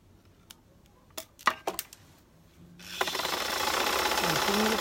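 A sewing machine stitching the hem of an easy maxi skirt starts up after a few sharp clicks and taps, then runs in a loud, steady whir to the end.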